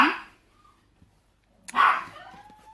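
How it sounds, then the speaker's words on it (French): Pet dogs barking indoors, two close, loud barks separated by a short silence, the second followed by a whiny trailing yip. "Si vous entendez du bruit, c'est mes chiens."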